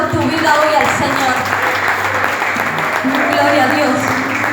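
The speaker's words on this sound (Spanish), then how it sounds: "Por eso dale un aplauso por tu vida hoy al Señor." A church congregation applauding, a loud dense clapping sustained throughout, with voices and talk mixed in underneath.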